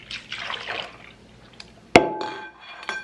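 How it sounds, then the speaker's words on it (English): Milk runs into a bowl for a make-ahead freezer meal with a liquid splashing pour, then a sharp clink against the bowl and a ringing tone, close by. "now I'm gonna pour in 3 cups of milk"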